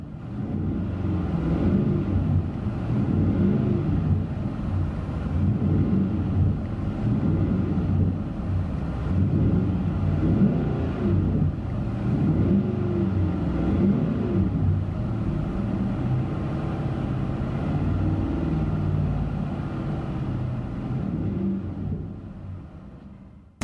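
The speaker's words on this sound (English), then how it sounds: "Interior tone level is moderate with this MagnaFlow True dual exhaust." Inside a car fitted with a MagnaFlow true dual exhaust, a deep, steady, moderate exhaust drone and road rumble fill the cabin, swelling gently as the engine pulls, with no talk, then fading at the end.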